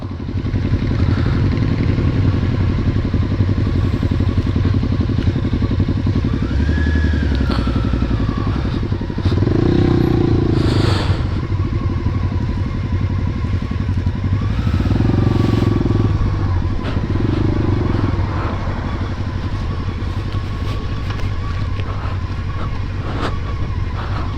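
Motorcycle ridden on a rough dirt trail, its engine droning loud and steady throughout with occasional surges and rattling thumps from bumps in the track, close to the microphone, no voices.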